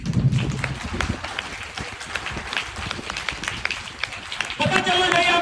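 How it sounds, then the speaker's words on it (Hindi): Seminar audience at an open event on Babe Talab Akhnoor Road applauding their parents: a steady wash of many hands clapping fills the clip, swelling louder near the end, with a voice speaking faintly underneath. "और सब लोग एक ताली बजाइए अपने माँ बाप के लिए।"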